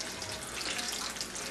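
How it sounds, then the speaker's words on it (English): Egg rolls frying in hot oil give a steady, dense bubbling sizzle close by, a continuous crackling hiss with no talking. "I'm ready just to lay my egg rolls straight into the oil there, and it will start bubbling up"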